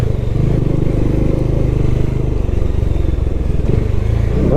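A motorcycle engine rumbles loudly and close by, steady and throbbing, amid a traffic jam of bikes and cars on a muddy mountain road between Kullu and Dharamshala. Faint clatter is mixed in, with no talking.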